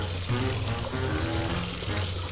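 Hot water runs steadily from a kitchen tap to clean a cast iron pan coated in burnt cheese, a continuous close splashing rush with no voices.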